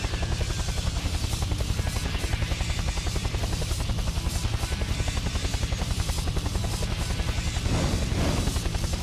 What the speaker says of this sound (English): And now his helicopter lands again